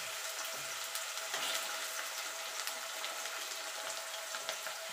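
Potato pieces fry in a pan in a cooking kitchen, producing a continuous, fairly quiet crackling sizzle that stays even throughout, with no one talking.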